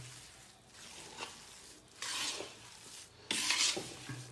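Repeated scraping strokes of a spatula stirring a thick mixture of khoya and jaggery for pinni sweets in a wok, coming in uneven bursts that grow louder toward the end, with no talking.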